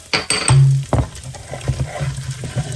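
Browned salted pork stirred with garlic powder in a pan, a spoon scraping and clinking against the metal in several close strokes over a low sizzle, without talk.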